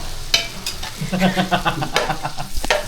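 Onions tossed into hot oil frying in a pan, a close crackling sizzle mixed with stirring scrapes and a sharp clank near the end, with no clear speech.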